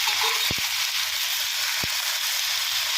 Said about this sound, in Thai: ค่อยๆผัดคลุกเคล้าไปนะครับ